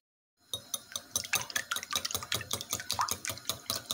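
Eggs are stirred into a bourak filling mixture in a bowl, with quick rhythmic scraping and clinking strokes close by, steady and alone.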